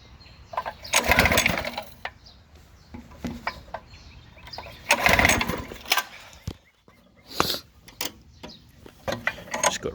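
A Bluebird lawn aerator's small engine runs on choke, its rough mechanical drone swelling in bursts and easing between them, loud and close with clattering, ratchet-like ticks and no talk.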